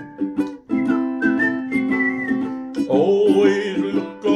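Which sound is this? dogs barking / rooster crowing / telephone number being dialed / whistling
whistling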